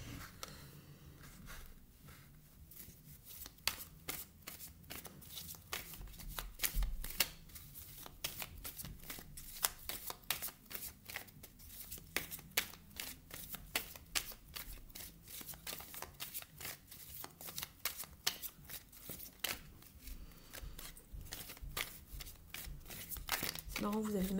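Radiant Wise Spirit tarot cards being shuffled by hand, a long run of rapid crisp riffling and flicking card sounds, close and fairly soft, with someone speaking French over parts of it.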